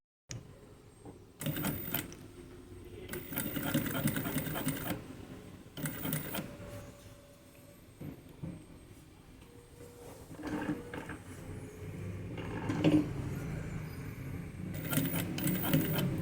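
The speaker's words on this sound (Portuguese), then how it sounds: "a gente vai fazer essa costura do pesponto aqui" Sewing machine topstitching along the zipper fly of a pair of jeans, running in several separate bursts with short pauses between them, close and fairly loud, with no talking.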